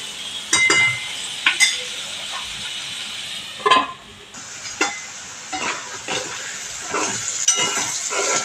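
Chickpeas are sautéed in a pan over a steady sizzle, with repeated clattering scrapes of stirring at irregular intervals, close and fairly loud.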